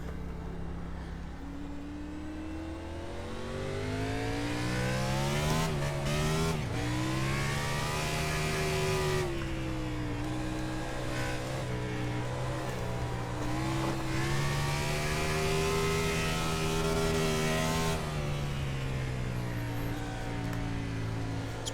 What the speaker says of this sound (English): I think I might just do a lap for the hell of it where I'm just burning the rear end off just because it's fun